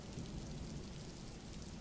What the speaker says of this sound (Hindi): बाहर इतनी तेज बारिश हो रही है